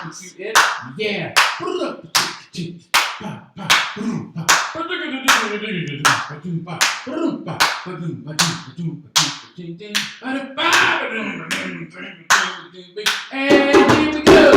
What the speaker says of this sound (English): Let's clap our hands with it.